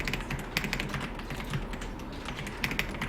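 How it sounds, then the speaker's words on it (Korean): Close-up typing on an old keyboard: irregular clicks and clacks of keys, some louder strokes standing out, with no talking. "키보드 인풋 소리가 좀"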